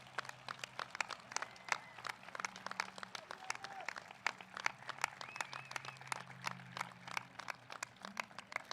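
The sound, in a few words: applause at graduation ceremony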